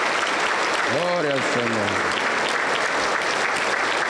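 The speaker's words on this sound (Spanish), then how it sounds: "Un fuerte aplauso para el Señor Jesús" A Pentecostal church congregation applauds steadily and fills the room with dense, continuous clapping, while a voice briefly calls out over it.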